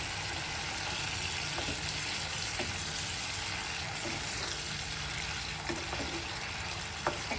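Prawns simmering in a mustard and poppy seed masala in a pan, giving a steady, close sizzle and bubbling hiss that runs unbroken with faint pops and soft clinks.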